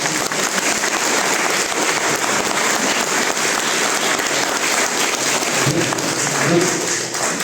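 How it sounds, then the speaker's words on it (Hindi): Loud, dense applause from a crowd at a doctor's retirement farewell, sustained and steady for several seconds like heavy rain, with faint voices underneath. "आप जोरदार तालियों से, पूरी जोरदार तालियों से गिफ्ट डॉक्टर साहब को दें।"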